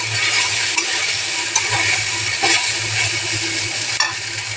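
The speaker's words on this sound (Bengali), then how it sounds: "দেখো আমার ভাতটা একদম পুরো ভাজা হয়ে গেল।" Rice stir-frying in a pan gives a loud continuous sizzle, with a steady low hum underneath and occasional scraping knocks from the spatula.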